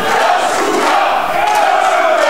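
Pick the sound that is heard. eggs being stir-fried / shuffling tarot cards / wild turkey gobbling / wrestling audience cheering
wrestling audience cheering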